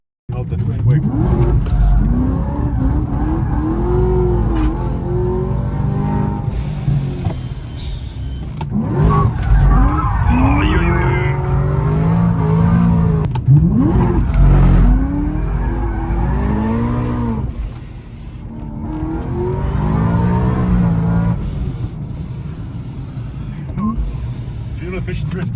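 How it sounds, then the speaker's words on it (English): A 750-horsepower BMW E90 M3 drifts on a mountain road, its engine revving hard up and down in loud, close sweeps with bursts of tire squeal, and a voice speaks at times over the noise. "Fuel efficient drifting."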